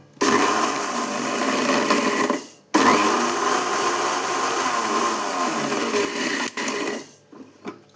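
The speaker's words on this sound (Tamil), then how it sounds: "மிக்சியில் போட்டு ஒரு ஒரு திருப்பு திருப்புனா பவுடர் ஆகிடும்" A kitchen mixer grinder whirs as it grinds vermicelli into powder. A loud, steady grinding run cuts out briefly, then a second long burst follows and winds down at the end.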